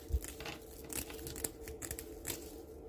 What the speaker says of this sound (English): I'm just going to take my scissors and just trim these off